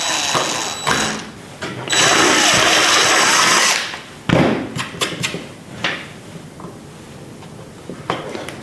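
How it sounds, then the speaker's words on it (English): Step drill boring through plastic, with bursts of whining power-tool sound, a long sustained run, then shorter stop-start grinding and clattering. "We recommend using a step drill to drill through this plastic."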